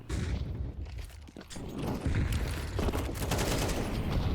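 Grenade blast and sustained gunfire from a Counter-Strike match, dense overlapping shots and a heavy boom running loud and continuous throughout, with no talk over it.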